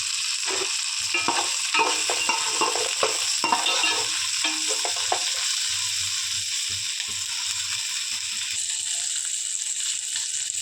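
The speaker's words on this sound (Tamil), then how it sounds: "இப்போ சின்ன வெங்காயம் சேர்த்து நல்லா கோல்டன் ப்ரௌன் வர்றதுக்கு வதக்கணும்" Small shallots and curry leaves sauté in oil for a Kongu-style brinjal dish, a bright steady sizzle punctuated by sharp scraping stirs of a ladle early on, then settling into quieter continuous frying.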